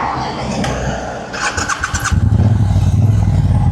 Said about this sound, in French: on écoute le bruit de ce bobber.